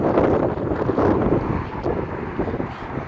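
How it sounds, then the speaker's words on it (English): Strong Kansas wind, gusting up to 40 miles an hour, buffets the microphone beside a 2020 Ford Transit 350 XL wheelchair van in a continuous, heavy rumbling roar with surging gusts, loud and close throughout. "super windy day, like we have wind gusts up to 40 miles an hour today"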